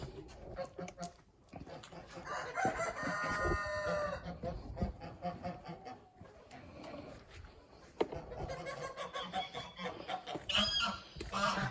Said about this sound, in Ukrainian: Наші гусочки.